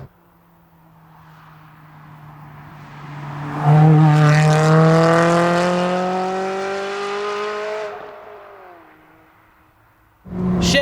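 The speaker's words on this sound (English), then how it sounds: "Shifts considerably faster, both up and down. Car is also much louder." A Ferrari 360 Challenge Stradale in race mode accelerates hard, its engine note climbing steeply through the revs and easing off before a fresh surge at the end, loud and close with no talking over it.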